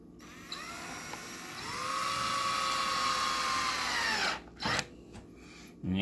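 A power drill driving screws into a chair whines up to a steady high-pitched spin for a few seconds, then winds down, followed by a couple of short bursts, close and alone.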